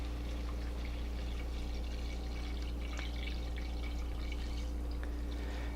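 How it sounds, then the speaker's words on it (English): Stock poured into a pot of onions and chilies for chile con queso soup, a soft continuous liquid pour with faint trickles and drips over a low steady hum. "what we want to do is get our stock in here"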